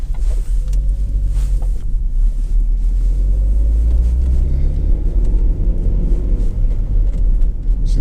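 Vauxhall Zafira 1.6 Exclusiv five-door driving and turning, with steady low engine rumble and road noise throughout, close and continuous with no talk.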